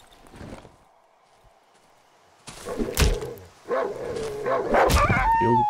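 A dog in the survival horror game Darkwood barks and whimpers in a loud, scrappy burst in the second half, with yelps and whines over game noise after a quieter opening.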